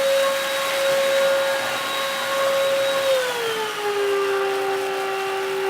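A Black and Decker 2 in 1 smart tech vacuum cleaner runs close and steady with a strong whine that drops lower in pitch partway through as it moves from carpet onto laminate floor. No talk.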